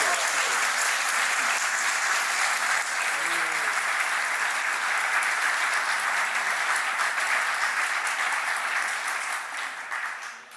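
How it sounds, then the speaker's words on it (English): A large audience at a games-industry talk gives long, sustained applause, a thick, even roar of clapping that carries on for about ten seconds before tapering off at the close. "thank you very much for your very kind applause"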